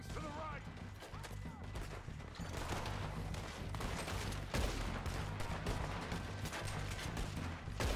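Red Dead Redemption 2 gameplay with dense gunfire, rapid overlapping shots and booms over a constant rumbling game soundtrack, with a player's voice talking faintly underneath at times.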